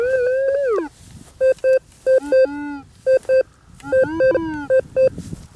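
Electronic beeping tones from a metal detector over a dug hole and sand while hunting Pułtusk meteorites, a long warbling tone then rapid bursts of short, clear beeps, loud and close.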